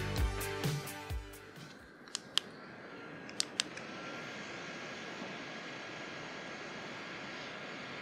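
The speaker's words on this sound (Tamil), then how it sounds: "சுவிட்ச் அமுத்தின உடனே நமக்கு 3 ஸ்டெப்பில் ஃபேன் இங்கே வந்து ஆன் ஆகிட்டு காற்று வரும்." A battery-powered neck fan switched on, its motor giving a steady, moderately quiet whirring rush of blown air that runs on evenly after a few brief clicks and tonal beeps at the start.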